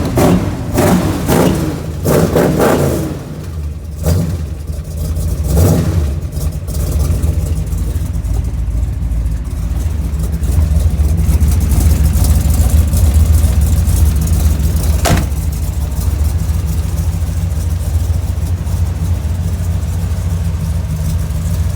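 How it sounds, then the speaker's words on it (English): A GMC Jimmy with a 468 engine revs several times in sharp bursts, then settles into a loud, deep, steady idle close by, with one more brief blip later on. "The Jimmy that now has a 468 is sounding spectacular."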